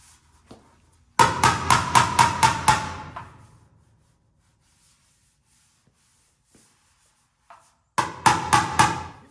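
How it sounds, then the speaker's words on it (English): Two quick bursts of sharp, rapid hammer blows beating down a metal panel on a Peterbilt 359 truck, about a dozen strikes in the first run, then quiet before a shorter run of hits near the end. "whack with the hammer there."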